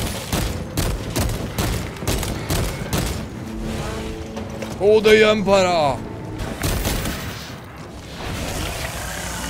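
Bursts of gunfire and booms from Warhammer 40,000 Space Marine 2 crackle across the battle, mixed with explosions, while a player talks excitedly over the action.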